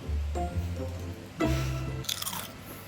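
Crunchy fruit salad dressed with sweet salad cream being bitten and chewed up close, with several loud crisp crunches and wet squishy chewing, a sharper crunch burst near the end.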